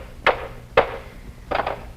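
A baby bangs a wooden hammer in a few sharp, separate knocks, two single hits then a quick double strike, fairly close and with no talking over them.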